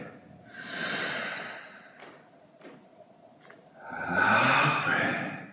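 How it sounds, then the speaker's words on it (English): Two deep breaths drawn in through the nose during a yoga practice, each a slow, airy inhale lasting over a second, close and clear, with quiet ticks and soft clicks between them and no talk. "in breath."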